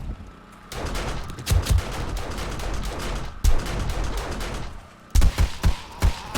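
Automatic turret fire in the 7 Days to Die video game, sustained rapid bursts of gunfire with a few heavier thumping hits, continuous and loud with brief pauses between volleys.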